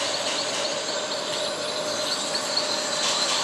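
A train rumbles along in the Spider Horror multiplayer video game, a steady, continuous rolling noise with faint squealing wheels, alone and at an even level throughout.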